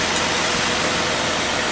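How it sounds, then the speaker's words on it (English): A Jeep Wrangler engine idles in neutral while warm, a steady, continuous mid-low rumble with constant loudness and no voices over it. "engine idling"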